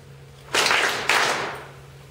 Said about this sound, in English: Let's start with 2 claps.